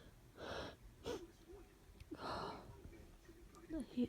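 A stifled sneeze held back by a person, coming as a few short, muffled bursts of breath and snorting wheezes spaced apart, faint and close, with no clear full sneeze release.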